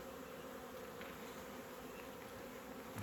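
Dense, steady buzzing of many honeybees at an open hive in an apiary, a continuous close drone with no breaks and no talking.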